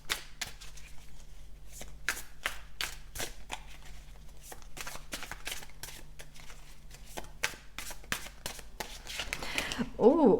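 Tarot cards being shuffled during a pick-a-card reading, a rapid series of crisp riffling slaps and flicks repeating steadily up close, with a voice speaking briefly at the end.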